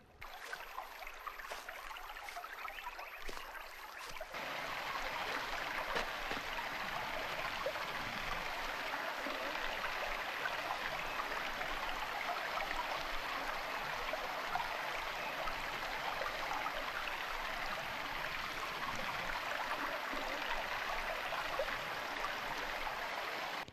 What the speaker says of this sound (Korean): 어디선가 들리는 물소리를 따라가게 되고